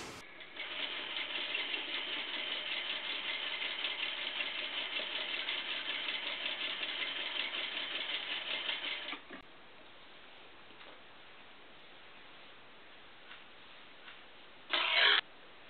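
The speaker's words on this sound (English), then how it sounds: "we're stitching across the top of each one" A sewing machine runs steadily for about nine seconds, stitching across the top of front and back lining pieces for a Kwik Sew 4276 garment, then stops, leaving quiet room tone and a brief later burst.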